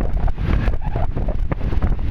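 Strong wind buffets the microphone on a beach, a loud, steady rumble and roar that gusts slightly and continues with no voices.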